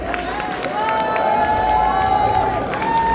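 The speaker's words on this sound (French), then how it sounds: "Un peu d'applaudissement pour Captain Costly" Crowd cheering and clapping at a cosplay contest finale, a sustained roar of applause and whoops from a sizable audience, with a host's voice ringing over the noise.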